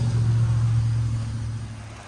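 A 2017 Chrysler Pacifica Touring L minivan's 3.6 liter V6 idles under the hood with a steady, smooth low hum that eases off slightly toward the end, heard alone.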